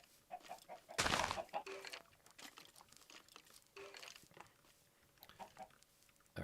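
Chickens cluck in Minecraft, a run of short, irregular clucks, some louder and closer, with one sharp louder burst near the start. No one speaks.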